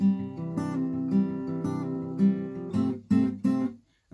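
Steady acoustic guitar fingerpicking pattern from a song, plucked notes ringing over a repeating bass line, close and clear, ending with a few louder strummed accents and a quick stop.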